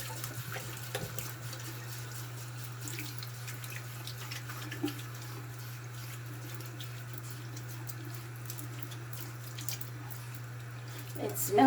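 Running tap water splashes steadily into a sink while hands are scrubbed with Meyers rose-scented hand soap, a continuous moderate wash with a low steady hum underneath.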